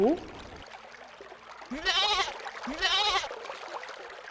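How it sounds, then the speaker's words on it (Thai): A sheep in a children's story about Mr Gumpy's outing bleats loudly twice, each call a wavering, drawn-out cry up close, with a short gap between them and a brief voice at the very start. "แกะร้องหนวกหู"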